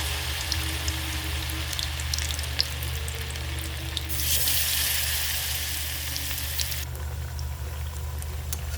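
Bitter gourds sizzle in hot refined oil in a wok, a steady close frying hiss that swells louder for a few seconds midway before settling back, with no voices.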